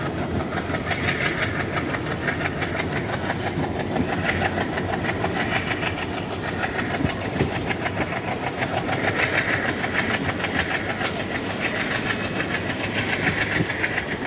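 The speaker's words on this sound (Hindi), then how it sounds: "इधर से देखिए कैसे पाम्बन ब्रिज पर ट्रेन क्रॉस कर रही है" A train rolls across the Pamban Bridge over the sea toward Rameswaram, a loud continuous rumble with rhythmic wheel clatter and rattling wagons sustained throughout, close and without speech.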